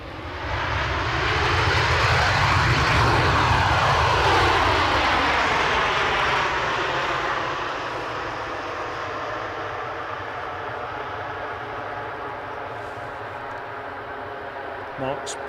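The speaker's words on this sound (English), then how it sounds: "For a big plane, she lands gracefully." A large passenger plane lands at Edinburgh Airport in icy conditions, its jet engine roar loud and broad at first and then easing into a steady lower rumble as it rolls out, with people talking over it.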